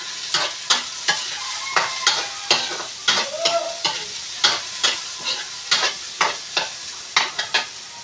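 Garlic, onion and ginger frying in hot oil for chicken curry, a steady close sizzle broken by regular scraping stirs about every half second, with no voices.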